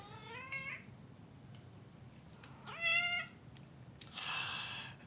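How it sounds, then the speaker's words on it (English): A pet cat meows twice, with a longer call near the start and another midway, followed by a brief breathy hiss-like burst, fairly quiet over low background noise with no talk. "That's my kitty."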